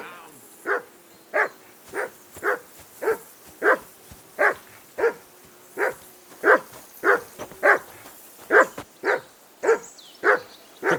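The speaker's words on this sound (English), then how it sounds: "Call off that damn dog before he wolfs down the last of our" A hound in the medieval video game Kingdom Come: Deliverance 2 barks repeatedly in a steady rhythm, about twenty sharp barks over eleven seconds, moderately close with a faint background.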